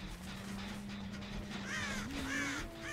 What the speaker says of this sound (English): the crows just came back